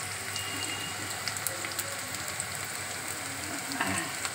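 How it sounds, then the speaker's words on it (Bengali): Cinnamon, cloves and cardamom fry in hot oil with a constant soft crackling sizzle like light rain, plus a few faint stirring clicks, heard close and alone. "গরম মশলা দিয়েছি হ্যাঁ দারচিনি লবঙ্গ আর এলাচ এটা একটুখানি ভাজা ভাজা হবে"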